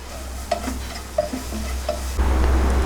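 Black pepper sautés in oil for pepper chicken: a soft sizzle under a few crisp spoon scrapes and taps on the pan, then a sudden louder rush of hiss near the end, close up and wordless.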